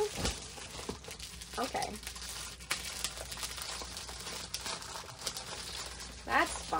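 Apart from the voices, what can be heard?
taking art sheets out of a crinkling plastic bag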